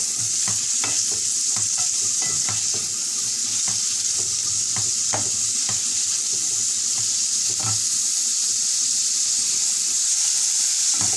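Onions sauté in a pan on a home stove, giving a continuous close sizzle with repeated scraping and stirring clicks of a utensil and no talking.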